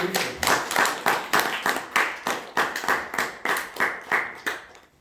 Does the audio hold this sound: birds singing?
no